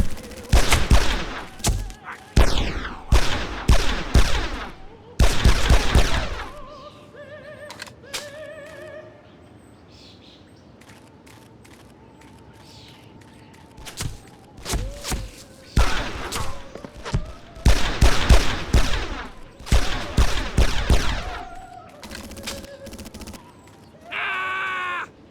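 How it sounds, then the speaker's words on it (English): Gunfire in the third-person shooter Made Man, set in a cemetery: loud bursts of rapid automatic shots in several clusters separated by quieter gaps with game sounds and brief voices. "Shoot him in the head."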